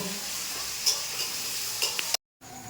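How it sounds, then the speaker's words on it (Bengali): Luchi puffed flatbreads frying in hot oil at home, a soft steady sizzle with a few faint clicks and stirring taps, quiet and close, briefly dropping out near the end. "এখানে একদম লুচি ভাজা শুরু করে দিয়েছে মা"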